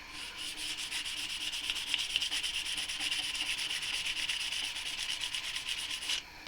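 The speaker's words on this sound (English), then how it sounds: "is actually gonna sand this all down and to prep it for priming" Sandpaper rubs steadily and rapidly back and forth across the plastic body of a Lima Mk2 model locomotive, a close, continuous rasping that stops abruptly at the end.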